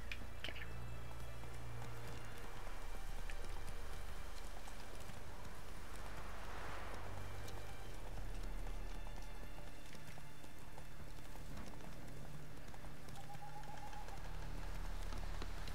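Hooves of the horse in the Witcher 3 video game pounding in a steady galloping clip-clop over a busy wash of game ambience and wind, continuous and fairly close.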